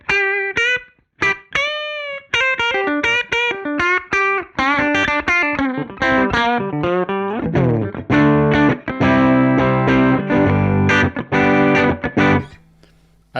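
Electric guitar on the bridge pickup through a UAD Showtime '64 tube amp emulation with classic Fender voicing, played as a loud, continuous run of clean, bright plucked notes and chords, alone and without talk.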